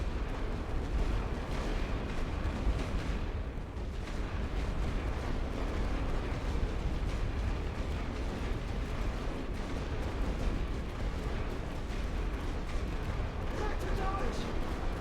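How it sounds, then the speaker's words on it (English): Dense, continuous artillery barrage rumbles through a trench battle in The Great War: Western Front, with booming shell impacts and distant gunfire blending into a heavy roar, while someone talks over it. "his artillery's hitting here"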